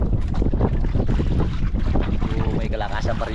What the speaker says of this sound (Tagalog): May kalakasan pa rin yung hangin mga idol.